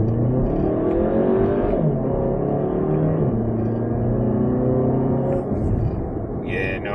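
A 2023 VW Tiguan Allspace with a 2-litre engine and all-wheel drive accelerating hard, engine pitch rising steadily through two upshifts, heard from inside the cabin with a clear drop at each gear change.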